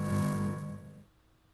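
Glowing string sound effect for an animated film, heard without EQ: a warm, low-heavy tonal hum with steady harmonic lines, loud at first and fading away after about a second.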